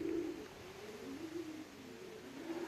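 Racing pigeons coming in to the loft during a strong-wind race over 359 km from Mlawa, with soft repeated cooing close by over a steady wind-like background hiss.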